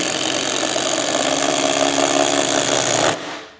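Milwaukee impact drills fitted with Shockwave accessories drive 3-inch wood nails: a loud, steady, close hammering rattle that runs for about three seconds, then cuts off and fades.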